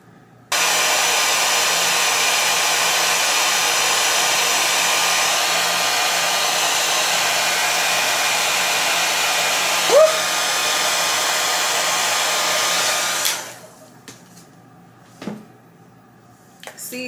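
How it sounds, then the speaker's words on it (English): A blow dryer on a warm setting runs loud and steady up close over a lace wig for about thirteen seconds, then switches off, leaving quiet with a few faint clicks and knocks. "we're gonna go in with our blow dryer on a warm setting"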